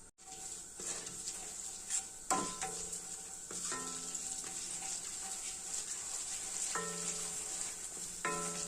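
Raw sesame seeds and urad dal sizzle in hot oil in a pan while preparing mint chitranna, a steady crackling hiss broken by occasional clinks of a spoon stirring against the metal.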